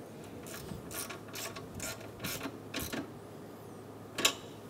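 Ratchet snugging radiator bolts on a 2014-2019 Toyota Highlander, a quiet series of about six short clicking bursts at an even pace, followed by one sharper click.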